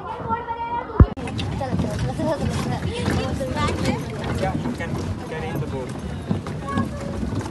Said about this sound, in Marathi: बोट मस्त आहे हा